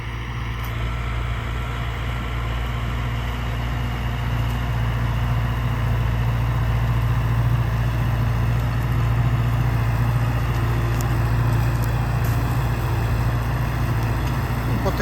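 An MTZ 892 tractor works hard pulling a PLN 3-35 plough through heavy ground, its diesel engine droning as a steady, loud low rumble throughout without letup.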